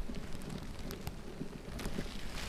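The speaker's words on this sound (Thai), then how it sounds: "ฝนตกอยู่" Steady rain falls outdoors as a dense, continuous patter with a low rumbling undertone, holding at a moderate, even level throughout with no talking.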